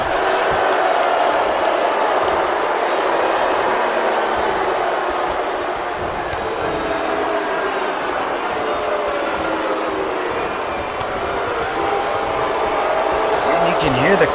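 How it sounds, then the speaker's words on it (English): Arena crowd noise in the WWE 2K19 wrestling game, a steady, dense wash of booing and murmur sustained throughout, with a commentator's voice talking over it. "You can hear the crowd just raining down with the boos for DC3"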